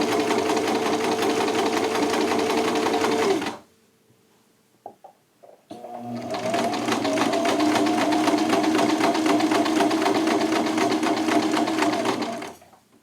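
A sewing machine stitches a shirt in a fast steady whir, pauses briefly with a few small clicks, then starts again and runs steadily before stopping.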